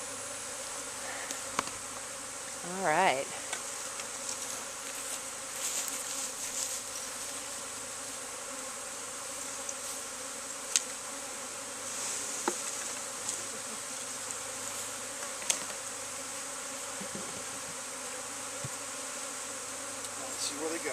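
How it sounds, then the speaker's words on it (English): A swarm of bees during a capture on Butterfly Hill hums in a steady, continuous drone, with faint clicks and a short spoken remark near the start. "See all the bees?"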